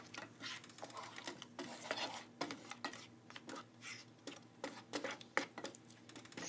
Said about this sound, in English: Stir them all around so they are well combined.